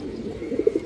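Pigeons at a pigeon seller's coop coo softly, a low murmuring coo that swells near the end with a few brief throaty notes, close by and otherwise alone.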